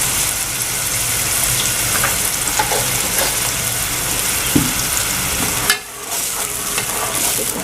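Maghaz (brain) frying in a pan with ground red chilies and salt gives a steady, close sizzle with stirring scrapes and one brief clunk near the end. No one speaks.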